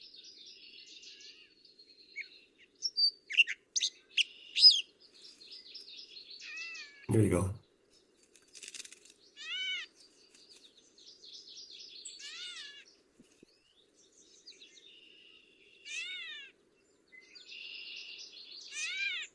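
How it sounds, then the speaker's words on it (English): A gray catbird gives repeated cat-like mewing calls mixed with varied chirps and warbles, faint and somewhat distant, with a brief spoken remark and a thump partway through. "one of the sounds that the catbird makes is the mewing like a cat"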